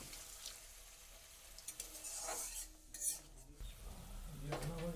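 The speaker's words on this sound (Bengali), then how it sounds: "দেখুন আমি মশলাটাকে একটু তেলের মধ্যে নাড়াচাড়া করে নিলাম এবার ওর মধ্যে আমি জল দিয়ে দেব" Spice paste for a fish curry is stirred in oil with a utensil, scraping and clinking against the pan over faint sizzling, then water is poured in, giving a brief hiss and bubbling toward the end.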